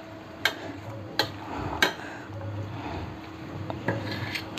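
A ladle mashes cooked cowpeas in a pot, giving scraping, rasping rubs with several sharp metallic clicks against the pot at an uneven rhythm, close up.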